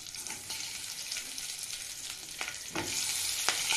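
Green chilies fry one by one in oil over a low flame, giving a steady close sizzle with soft stirring scrapes that swell louder toward the end.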